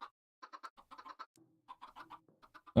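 Chickens in the game Minecraft, a series of short clucking bursts in quick groups separated by brief pauses, close and fairly quiet, with no talking.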